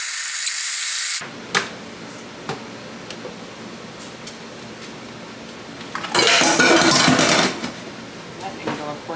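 A blender pulses chunks of cheese with jalapenos in two loud, harsh whirring bursts: one at the very start, then a longer one after several seconds of quieter clattering.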